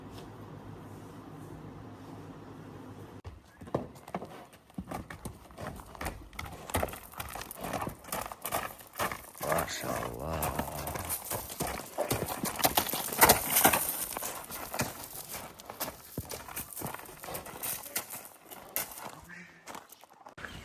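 Horse hooves clip-clop in an irregular walking rhythm after a quiet start, with a brief spoken exclamation over outdoor background noise, at a horse sale in Nookat, Kyrgyzstan.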